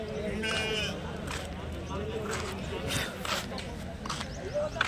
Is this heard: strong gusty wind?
no